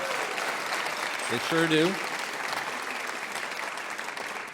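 A live music show audience applauds the WoodSongs crew with a full, continuous wash of clapping, and someone briefly speaks over it partway through.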